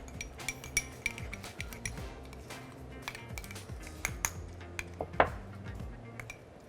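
A spoon mixes grated egg with mayonnaise and salt in a bowl, giving quiet, scattered clinks and scrapes against the bowl with brief ringing taps, close and soft, with no talking.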